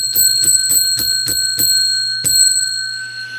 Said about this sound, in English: after I ring that bell 10 times because we got 100 thumbs up